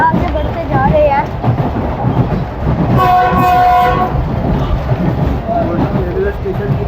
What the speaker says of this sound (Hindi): बहुत अच्छे ट्रैक साउंड के साथ हम आगे बढ़ते जा रहे हैं।